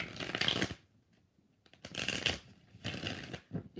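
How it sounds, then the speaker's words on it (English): Tarot cards are shuffled in three quick bursts of riffling and sliding, close and crisp, separated by short pauses of near silence. "4 shuffles."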